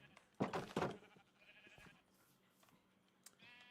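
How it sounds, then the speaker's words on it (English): A white sheep in the game Minecraft bleats twice in quick succession, close and clear, then quieter game sounds follow. "ended the life of the white sheep. Goodbye, white sheep."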